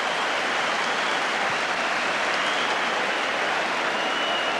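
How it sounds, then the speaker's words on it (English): Football crowd applause fills Stamford Bridge during a Chelsea match against Nottingham Forest, a dense, steady wash of clapping that sounds loud and continuous throughout. "Applause all around Stamford Bridge for that one."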